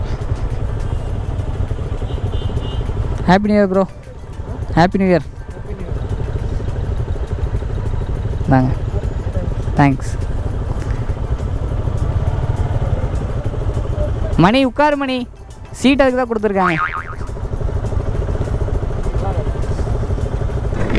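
Heavy road traffic around a KTM motorcycle rider, a continuous low rumble of engines and idling vehicles, with riders exchanging short greetings over it and brief horn-like bursts.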